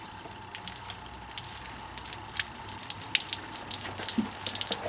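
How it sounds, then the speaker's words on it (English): Washer fluid poured into the washer reservoir of a BMW 3 Series to flush out algae scum, a steady trickling and dripping of liquid with broad splashy hiss, close and continuous, no talking. "Now I'm going to use a little bit of good washer fluid to just try to flush the rest of that out."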